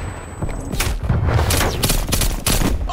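PPSh submachine gun fire in Call of Duty: Black Ops Cold War, loud rapid bursts of shots with booming impacts filling the whole stretch, no talking over it.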